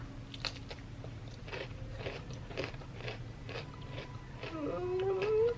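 Bites into chocolate-covered potato chips, with a series of close, crisp crunches and chewing over a low background hum, then a rising squeak-like tone near the end.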